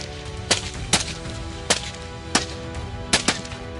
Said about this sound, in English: gunfire erupted in rapid succession